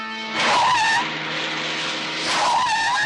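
Two loud bursts of screeching tire squeal as a car skids and swerves, the second following about two seconds after the first.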